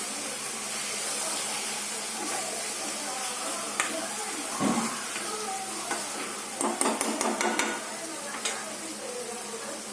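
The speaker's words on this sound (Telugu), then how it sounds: "వేయించుకున్న ధనియాల పొడి 1/2 స్పూన్ వేసుకొని కలుపుకుందామండి" Ivy gourd curry stirred in a pan after roasted coriander powder goes in: a gentle sizzle and hiss run throughout, with scraping and clicks of a spoon growing busier toward the end.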